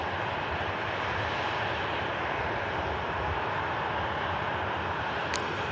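An Austrian Airlines Embraer E190 taxis in at Manchester Airport, its jet engines giving a steady, unbroken broadband roar that holds at moderate loudness throughout, with a brief faint high chirp near the end.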